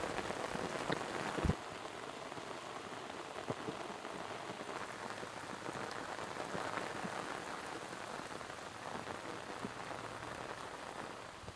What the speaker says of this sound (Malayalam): നല്ല ശക്തമായ മഴയാണ് പെയ്തുകൊണ്ടിരിക്കുന്നത്.